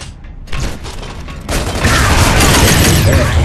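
Torpedo bay opening in the Gears of War 3 video game: a loud mechanical grinding and rumbling that swells in two stages into a dense, roaring metallic wash, with no talk.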